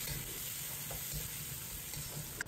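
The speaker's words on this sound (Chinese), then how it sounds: "起锅放入1勺油，油热以后放入姜末，放入准备好的香料，把小料爆出香味" Ginger and spices frying in hot oil in a wok, a steady close sizzle with faint stirring scrapes, no talk.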